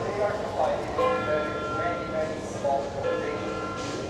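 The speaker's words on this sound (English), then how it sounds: "The bells are ringing, by the way." Church bells in Porto ring seven o'clock, heard faint and distant as a series of resonant tolls spaced a fraction of a second apart, mixed with low background noise and murmuring voices.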